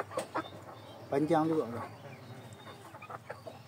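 Hen clucking close by among a flock of fowl, a few short rhythmic clucks with a drawn-out call in the middle, while someone talks over them.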